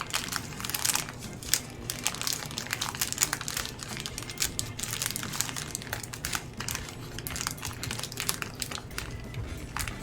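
Parchment paper crinkles and crumples up close with continuous dry, irregular rustling and crackling bursts, quiet overall, with no talking.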